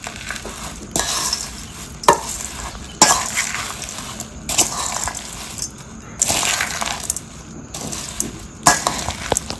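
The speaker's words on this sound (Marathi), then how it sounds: "अशी मिक्स करतो हे बघा म्हणजे छान लागते" Bhel snack being mixed by hand in a bowl, with repeated rustling, crunchy tossing bursts of puffed rice coming in a rough rhythm about every second or so, close up and fairly loud.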